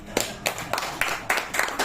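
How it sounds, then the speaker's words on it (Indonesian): An audience in a seminar room claps, a short burst of several uneven rapid claps that rise and fall in quick succession. "Ayo tepuk tangan."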